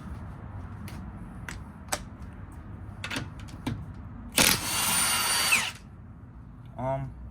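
A Milwaukee 2967-22 half-inch high-torque impact wrench, run on a Forge battery, breaks loose a nut in one loud, dense hammering burst of about a second. Scattered clicks and taps come before it, and a brief whirring spin follows.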